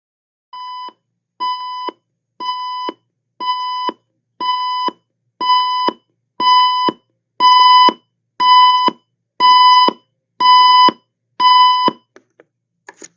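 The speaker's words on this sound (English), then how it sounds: "it does a progressive alarm where it just starts out soft and continually gets louder and louder till it reaches your maximum setting" An extra-loud clock radio's progressive alarm goes off: a dozen evenly spaced electronic beep bursts, starting soft and growing steadily louder with each repeat before stopping.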